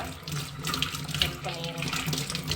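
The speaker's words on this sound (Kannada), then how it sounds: "ನಾವು ಈ ಬೇರನ್ನ ಒಂದು ಸ್ವಲ್ಪ ಚಂದ ಮಾಡಿ ತೊಳ್ಕೊಂಬ ಜಾಸ್ತಿ ನೀರು ವೇಸ್ಟ್ ಮಾಡೋದು ಬೇಡ" Tap water streams steadily and loudly from a faucet as the roots of a freshly pulled medicinal plant are rinsed at home, a continuous splashing wash with no break.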